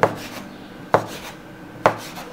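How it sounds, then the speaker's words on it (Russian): Knife chopping through floured strips of dough on a board, three firm evenly spaced cuts, close and clear with no talk. "Посыпаем мукой и нарезаем."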